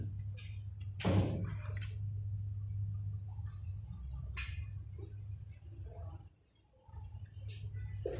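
Engine oil, 0.7 litres, pours into the engine of a Honda Scoopy-i scooter with a soft, steady liquid trickle and faint dripping over a low constant hum, briefly dipping quieter near the end.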